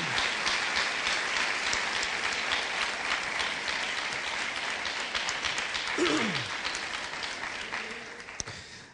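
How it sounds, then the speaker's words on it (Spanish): A church congregation gives a loud, sustained offering of applause, dense clapping filling the room steadily for several seconds before tapering slightly at the end. "Dele esa ofrenda de palmas fuerte al Señor."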